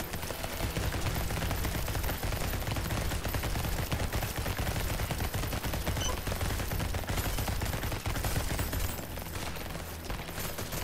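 Dense, continuous gunfire in the top-down shooter Lumencraft, a steady barrage of rapid shots and mechanical clatter sustained for around ten seconds with no pauses or talk.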